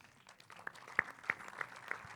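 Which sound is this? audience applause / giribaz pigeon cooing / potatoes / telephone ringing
audience applause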